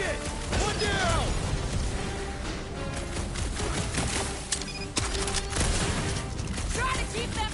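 Gunfire in the Guardians of the Galaxy video game, a dense run of rapid blasts and impacts under game music and sound effects for most of the clip, with voices mixed in.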